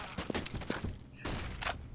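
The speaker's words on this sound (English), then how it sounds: "I'm currently favouring the left because I can hear all the gunshots" Gunfire in the video game CS:GO, a few sharp, fairly faint bursts spread across a short stretch without talk.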